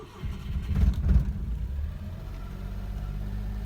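A kei car engine starts for the first time: a short cranking burst settles into a steady low idle rumble, close by and fairly quiet, with no voices.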